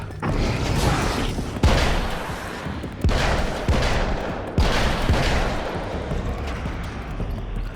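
Gunshots in Alan Wake's American Nightmare: several heavy, booming shots spaced a second or more apart, each followed by a rumbling decay, close and loud.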